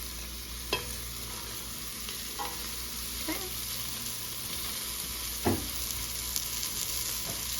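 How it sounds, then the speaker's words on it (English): Leeks, white onions, carrots and celery sizzle steadily as they brown in a pan, a constant frying hiss broken by a few scattered stirring scrapes and clinks. "we're gonna go ahead and add the remaining vegetables and let them get a little color too"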